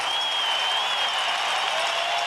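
A home crowd roars and applauds at a college baseball game in Rosenblatt Stadium, Omaha, during the 1991 College World Series, a steady, dense wash of cheering that holds at full level throughout.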